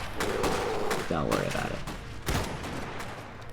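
Shotgun fire from infantry in the Iron Harvest strategy game, repeated sharp blasts over a dense, loud battle din, with a voice speaking briefly amid the fighting.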